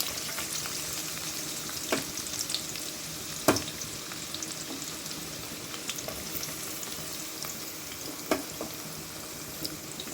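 Garlic, ginger, green chili and onion sauté in a pan for chicken egg fried rice, a continuous soft sizzle broken by occasional sharp spatula knocks against the pan.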